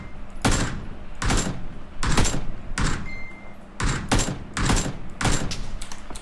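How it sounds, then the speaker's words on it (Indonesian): Gunshots in the battle royale game PUBG, a series of loud, close, sharp bursts of rapid fire in uneven clusters separated by short gaps, no talking. "Oh, ada orang tembak."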